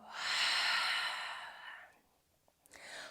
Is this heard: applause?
no